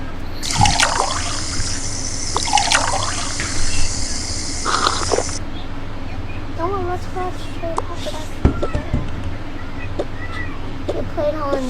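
Running water from a tap during dishwashing, a steady trickle and splash under the scene with occasional clinks, while voices talk and game-like tones chirp in the background.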